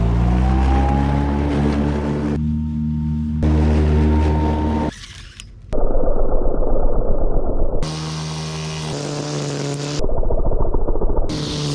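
A lawn mower's engine runs loud and close while cutting an overgrown lawn beside a pool cage, its steady drone shifting pitch and load several times as it works.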